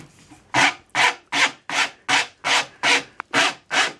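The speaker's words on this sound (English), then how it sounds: "So I've rasped down to my mark." A rasp filing a horn nock onto the tip of a yew English longbow, with about nine loud, even, rhythmic strokes at close range and brief gaps between them, with no voices.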